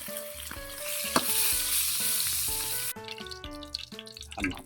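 Dried fish (daing) frying in hot oil for breakfast, a steady loud sizzle with crackles throughout, turning more spattery and uneven toward the end, with no talking.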